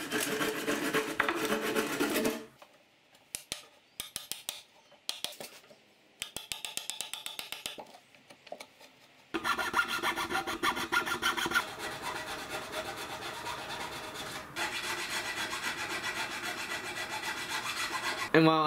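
Hand saw and chisel finishing a cut in wood: rapid rasping saw strokes, then pauses with short scraping chisel work, followed by a long run of steady close sawing, with no voices.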